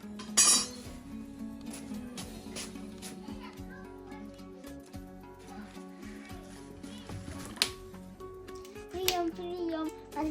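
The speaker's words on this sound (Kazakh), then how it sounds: "Бісміллә, қақпаны жабамыз." A metal lid clinks onto a cooking pot of Kazakh boiled meat, with a few sharp clanks amid quiet kitchen sounds while people and children talk in the background.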